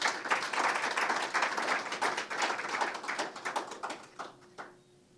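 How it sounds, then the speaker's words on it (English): Audience applause at a Barbadian tourism heritage event, a dense wash of many hands clapping that holds steady, then thins into scattered claps and fades out near the end. "Please give her a round of applause"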